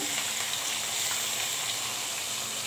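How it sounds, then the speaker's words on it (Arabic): Garlic frying in a pan for Damietta-style bessara, giving a steady, even sizzle that stays close and constant throughout with no talking. "التومة مش هنستنى تتحمر قوي، احنا هنستناها تدبل كده او تبدأ تبقى لونها يتغير"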